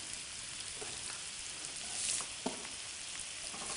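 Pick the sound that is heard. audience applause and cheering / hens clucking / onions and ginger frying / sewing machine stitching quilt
onions and ginger frying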